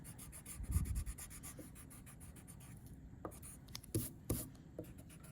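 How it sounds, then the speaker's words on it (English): Pencil marks being erased from paper, a soft dry rubbing scrape in short back-and-forth bursts, close and quiet with no talking. "So I'm erasing my pencil marks."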